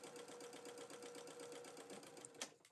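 A sewing machine runs steadily, stitching seams on a small fabric charm-square bow with a rapid, even mechanical rhythm, close and alone, then slows and stops near the end.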